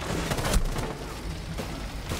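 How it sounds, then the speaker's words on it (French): A flashbang grenade goes off in a 1v1 video game match, a short loud bang amid a dense, noisy mix of game action. "What a flashbang from Spoit!"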